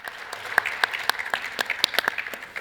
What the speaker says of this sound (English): please, a lot of applause for all the panelists.